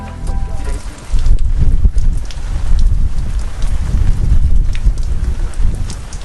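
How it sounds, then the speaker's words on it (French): Steady tropical rain falling at Pointe-du-Bout, a broadband hiss with low rumble and some wind buffeting the microphone, continuous and fairly loud throughout. "on a été réveillés par la pluie"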